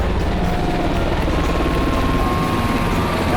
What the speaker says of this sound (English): two UH-60 Black Hawk helicopters from the 101st Airborne Division Air Assault Combat Aviation Brigade